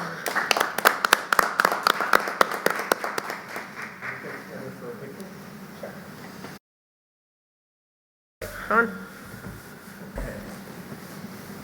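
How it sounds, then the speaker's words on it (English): At a school district board of education meeting, an audience claps in a burst of sharp individual hand claps that thins and fades, then after a brief silence a few voices talk faintly. "Why don't you give yourselves a round of applause?"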